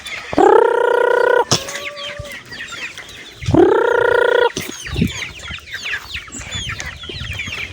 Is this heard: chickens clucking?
yes